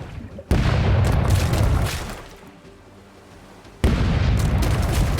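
Crew cannons fire in the pirate game Rogue Waters: heavy booming blasts, one rumbling out and decaying before another loud explosion hits near the end.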